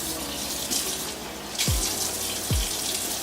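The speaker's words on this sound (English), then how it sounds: "I'm gonna rinse this off, and I always make sure that I have my brush face down" Tap water runs steadily into a sink while a makeup brush is rinsed face down beneath the stream, close and continuous, with a couple of brief splashy gurgles and no speech.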